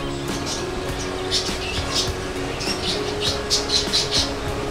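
Helicopter budgerigars at the Kolkata bird market, many small birds giving bright chirps and twitters in scattered bursts over a steady market din.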